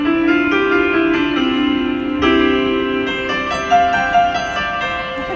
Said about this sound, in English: John Thompson piano book. It sounds like this.